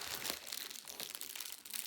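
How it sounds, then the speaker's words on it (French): A plastic shopping bag is torn and crinkled open close up, giving a continuous crackling rustle at a fairly quiet level. "je peux déchirer tout ce sac-là"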